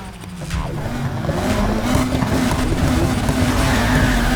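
A stock car engine revs in the racing game Need for Speed Heat, a loud continuous roar that builds steadily and holds without pause.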